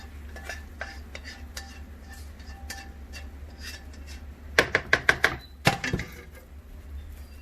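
A spoon stirs a pot of stew for plantain moi-moi, with soft scraping through most of it and a quick burst of sharp clinks against the pot near the end, close and moderately loud with no talking.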